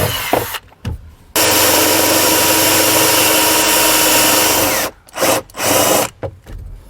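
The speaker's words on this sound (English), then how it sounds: "I'm going to start my pilot hole." A loud power drill whirs steadily for several seconds after a short start, drilling a pilot hole while installing a trailer brake controller in a vehicle, then stops and gives a few brief bursts.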